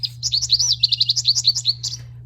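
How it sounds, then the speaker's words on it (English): A recorded bird song plays from a button on a children's sound book: a quick run of bright, repeated chirps and trills over a low steady electronic hum, with no voices. "it's literal sounds of the birds"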